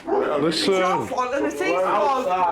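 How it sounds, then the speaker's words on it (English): Inside a house, a dog barks and whines continuously and close by while people argue loudly over it. "Sorry about the dog."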